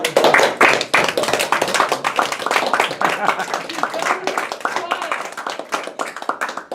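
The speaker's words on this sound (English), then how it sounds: "let's give our round of applause to everybody" A room of people clapping after a presentation, loud close handclaps with sharp individual strikes, strong at first and slowly tapering while the crowd keeps applauding.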